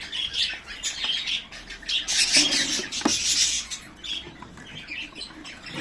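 Young birds in a breeding enclosure, just starting to colour up, chirp and squawk repeatedly in a busy, close chorus with brief wing flutters, no talking.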